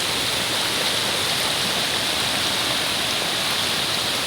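Storm floodwater rushing down from the mountain during a typhoon makes a loud, continuous, broadband roar with no breaks, close by and unaccompanied by talk.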